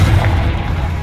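A Confringo blasting spell explodes in Hogwarts Legacy, a loud, dense low rumble that fills the whole second with steady force and no separate sharp crack.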